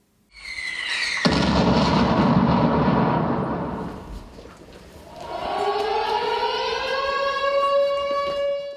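A loud air raid siren in a stage play wails, first with a harsh noisy blast, then rising into a strong sustained tone that climbs and holds, filling the space.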